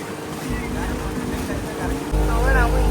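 A motorboat carries passengers across the Srisailam dam backwater toward the Akkamahadevi caves, its engine droning loud and close beneath people talking aboard.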